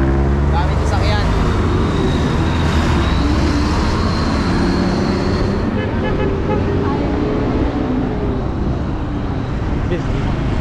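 Heavy road traffic streams past at close range, a continuous loud roar of engines and tyres with passing vehicles swelling and fading, while people talk over it.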